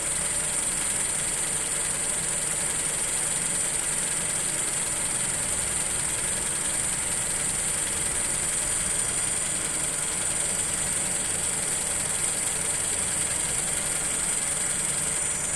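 Car engine idling steadily after a start, a continuous even hum with mechanical vibration, close and loud throughout, no talking.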